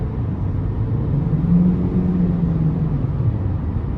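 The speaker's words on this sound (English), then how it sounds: "So the engine gets super loud when I floor it, but it pulls." A 2013 Ford C-Max Hybrid at full throttle, a steady engine drone rising slightly in pitch as the car accelerates, with continuous road and cabin rumble; fairly loud and even.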